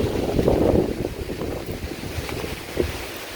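Hurricane Ian's winds batter the outside of a home in Groveland, Florida, rattling loose objects, with a steady, loud roar of gusting wind and microphone buffeting and a few sharper knocks and rattles.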